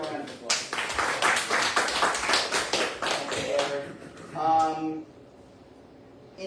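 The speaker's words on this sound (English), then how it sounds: "Let's give him a round of applause." Clapping from the audience at a City Island community meeting, a run of dense rapid claps lasting about four seconds that then fades out, with a voice rising briefly near the end.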